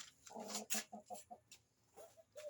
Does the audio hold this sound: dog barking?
no